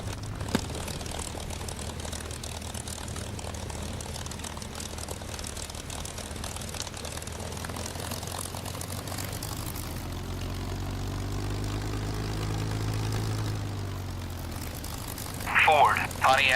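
A P-51 Mustang propeller engine running in the DCS flight simulator, a steady droning hum that rises and swells slightly near the end, with a brief burst of other sound at the close; no one speaks.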